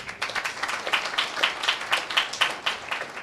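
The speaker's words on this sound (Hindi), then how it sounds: "जब मिलने की बारी आती तो ताली तो बजती ही है।" A church congregation claps during a sermon, producing a rhythmic burst of collective applause with a regular beat, moderately loud and alone without talk.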